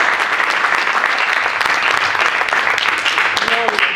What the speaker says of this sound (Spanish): Del otro aplauso al Señor.